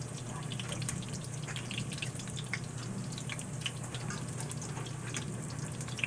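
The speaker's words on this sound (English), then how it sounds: "So, I'm going to let them fry up a little bit." Potato pancakes with onion and garlic frying in a pan, a faint, steady crackling sizzle with scattered tiny pops running throughout, with no voices.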